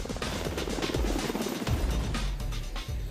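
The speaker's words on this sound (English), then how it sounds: "pilots and crews learn to fly and operate one of the most technologically advanced helicopters in the fleet, the MH-60T Jayhawk" An MH-60T Jayhawk helicopter drones steadily overhead, its rotor thumping in a fast, continuous beat under a dense, loud wash of engine noise throughout.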